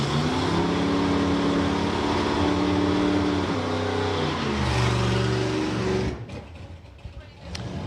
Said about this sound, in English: Another one of the Outlaw Anglers putting its first run in of the weekend against this fantastic Vauxhall Victor estate.